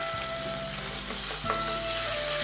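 Onions and ginger-garlic paste fry in a pan with a steady, loud sizzle, a spoon scraping and stirring through it now and then.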